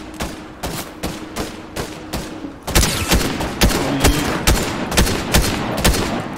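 Gunshots ring out in a No Build Fortnite match: a steady series of sharp, loud cracks at a regular pace, growing heavier and denser partway through.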